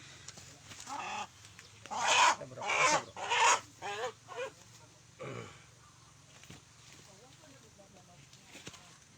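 A native chicken being held for slaughter lets out a series of loud, agitated clucks and squawks in several close bursts, then falls quieter, over a low steady background hum.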